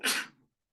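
A single short sneeze, a sharp breathy burst that fades within half a second, heard alone and fairly close.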